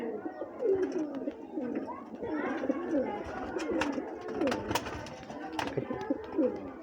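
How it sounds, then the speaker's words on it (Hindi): Several golden pigeons coo nearby in soft, overlapping throaty calls, with light rustling and a few sharp clicks mixed in. "ये गोल्डन कबूतर है।"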